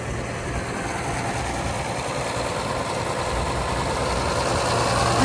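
A Cockshutt 40 diesel tractor idling at an outdoor vintage tractor show, a steady low rumbling drone that stays even and gradually grows a little louder.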